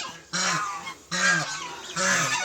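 A black and white goose beside four newly hatched goslings in Shayestabad, Barisal gives three loud, drawn-out honks close up, separated by short pauses.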